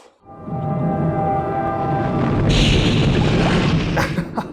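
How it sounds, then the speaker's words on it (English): An underwater explosion from the 1965 James Bond film Thunderball, a loud, sustained rumbling boom that swells and churns for several seconds with a crashing, turbulent wash. "This is officially the first underwater explosion on the channel."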